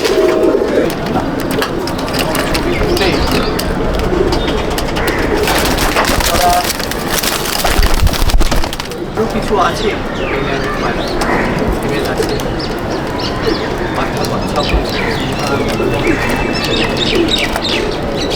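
Pigeons coo and chirp in a loft at Mominpur, a steady layered murmur of birds running throughout with louder bursts midway, while people talk nearby.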